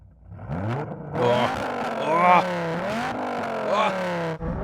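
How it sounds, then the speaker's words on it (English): A Dodge Viper engine revs loudly several times, rising and falling in pitch, with a deep throaty rumble that settles into a steady idle between blips. "Adam, rev up your Viper"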